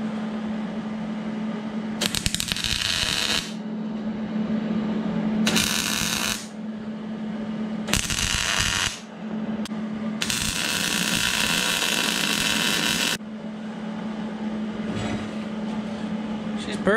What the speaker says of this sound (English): Let's weld this in place.